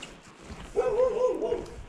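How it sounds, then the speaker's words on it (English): A large dog barks up the road, one sustained, strained yelping call lasting under a second, fairly close and standing out over faint outdoor background. "There's a dog kicking off."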